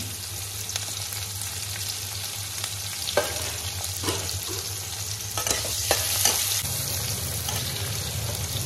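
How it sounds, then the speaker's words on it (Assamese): Onions frying in oil with five-spice seeds and two dried chilies in a home kitchen: a continuous close sizzle over a low steady hum, with intermittent spatula scrapes and clicks as the pan is stirred. "পিঁয়াজখিনি ৰঙচুৱাকৈ এতিয়া ভাজি লওঁ"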